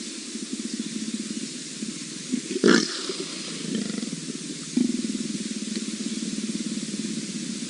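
A deep, rumbling leopard growl runs steadily throughout, broken by a sudden harsh snarling burst and a second sharp flare, close and loud, on safari amid several leopards.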